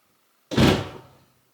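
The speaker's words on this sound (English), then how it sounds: "slam the door" A single heavy door slam lands sharply and loud, then its boom trails off over about half a second, with nothing else around it.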